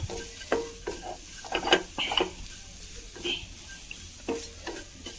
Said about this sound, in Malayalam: അതും കൂടി ചേർത്തൊന്ന് വഴറ്റി കൊടുക്കാം.